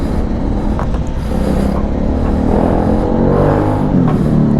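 A Kawasaki Dominar 400 motorcycle converted into a supermoto runs with a steady, loud engine drone close by that swells gently toward the end, with no talking over it.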